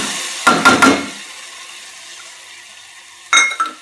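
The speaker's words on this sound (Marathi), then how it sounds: "डाळ मी थोडं फोडणी घालूपर्यंत जरा पाण्यामध्ये धुवून ठेवली होती, तर ती सगळी टाकते" Washed lentils tip into a hot tempering pan in the kitchen, giving a loud clattering splash with a quick sizzle that fades, then a second short pour later on.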